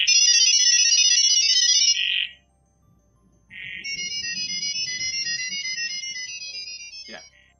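A phone ringtone trills in two loud bursts, a long electronic warble that stops, a short pause, then rings again for several seconds, with faint low murmuring beneath the second ring.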